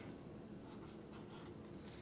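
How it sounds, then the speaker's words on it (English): A marker squeaks and rubs across a cardboard paper towel roll while drawing shapes, giving short, rhythmic scratchy strokes that are faint and close, with no talk. "Let me draw a square, let me draw a rectangle, let me draw something on this one."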